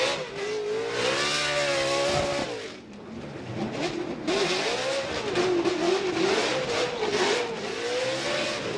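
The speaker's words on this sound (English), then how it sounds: "listen to the AutoZone Mustang RTR Spec 5 FD." A Ford Mustang RTR Spec 5 Formula Drift car engine revs hard and loud, rising and falling in pitch with aggressive acceleration bursts and a brief dip midway, close and continuous.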